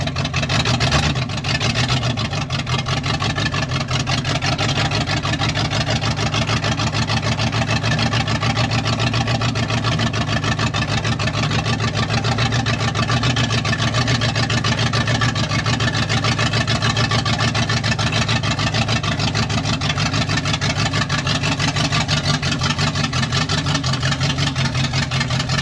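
1998 Jeep TJ with a V8 engine running at a steady idle, a continuous low rumble with an even throb and no talk.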